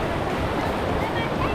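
Ocean surf rolls continuously onto a beach at Puerto Escondido, a loud, broad wash of breaking water and wind with no distinct individual waves.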